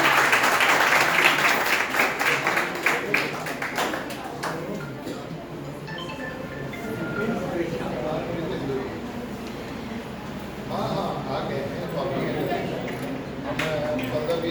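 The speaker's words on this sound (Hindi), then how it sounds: "जोरदार तालियों के साथ" Applause from an audience at a B.Ed. department seminar at a college in Gaya, loudest at the start and continuing as a steady spatter of claps that fades slightly and swells again, with some talk mixed in.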